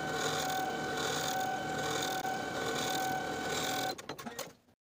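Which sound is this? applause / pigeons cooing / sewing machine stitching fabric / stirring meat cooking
sewing machine stitching fabric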